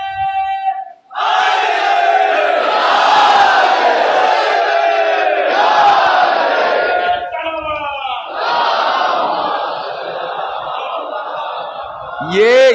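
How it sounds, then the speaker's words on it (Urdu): Crowd at a Shia Muharram majlis gathering chanting slogans in unison, loud and sustained, with a short lead-in voice and repeated rising collective shouts. "جوانوں، تمہارے ہوتے ہوئے اگر ضعیف نعرہ لگائیں"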